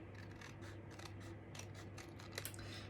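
Scissors snipping through a papercraft piece, a run of small crisp cuts spread across a few seconds, close but quiet against a steady low background hum.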